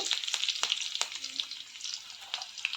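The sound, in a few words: seeds and curry leaves frying in oil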